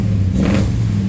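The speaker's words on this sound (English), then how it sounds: "it's not a bad sounding exhaust on that as well" Engine of a 1973 car revving through its exhaust, a single close, loud rise and fall of a mid-pitched engine note over a steady idle.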